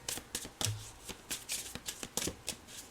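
A deck of tarot cards shuffled by hand at close range, a string of quick riffling flutters and soft card snaps in an uneven rhythm, with no talking.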